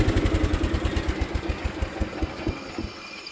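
A 1973 John Deere 140 H3 garden tractor engine running steadily close by, a low, even chugging pulse with mechanical clatter, throttled up and loud throughout with no talk.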